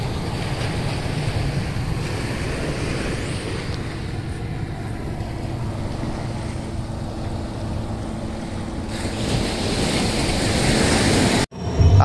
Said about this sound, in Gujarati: કેવા ધબ ધબાટી બોલાવે છે શું મોજા